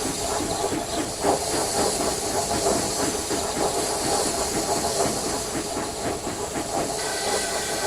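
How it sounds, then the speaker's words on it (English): Twin steam engines puff away with a continuous loud hiss of steam, a rhythmic chuffing and the clickety-clack of wheels rolling on rails, heard up close and with no talking. "And the twins puffed away."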